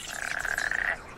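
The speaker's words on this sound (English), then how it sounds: "Frogs are breeding too, and they join in the chorus." Frogs in a breeding chorus at a Balkan wetland give a dense, continuous rattling croak, loud and close, cutting off abruptly after about a second.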